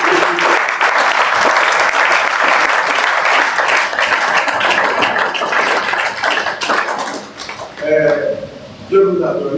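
A church congregation applauds loudly and steadily in a dense, sustained wash of clapping that thins out near the end, with voices rising over it in the last seconds.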